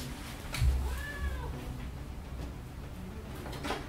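A cat gives a single short meow over a low, steady hum, then the room stays quiet with faint background noise.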